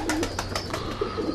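A domestic racing pigeon in a breeder's loft coos in a series of soft, repeated throaty calls, close and fairly loud, with no talk over them.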